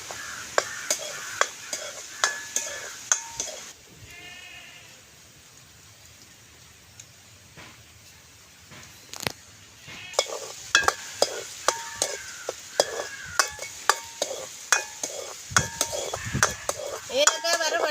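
Cardamom pods dry roasting in a pan, sharp dry clicks and rattles as they are stirred, which go quiet for a stretch in the middle and then return busier and louder, with no one speaking.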